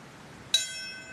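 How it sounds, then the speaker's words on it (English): A single clear memorial bell strike at a 9/11 anniversary commemoration rings out and sustains with a long, shimmering decay over a quiet background. "6 bells, 6 moments of silence"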